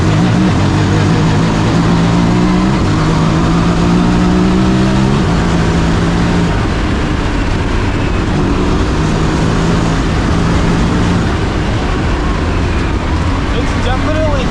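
A turbocharged 2025 Honda Talon 1000R side-by-side with a Jackson Racing turbo engine drives off-road, its engine droning steadily and loudly with rising and falling pitch as it accelerates, continuous throughout.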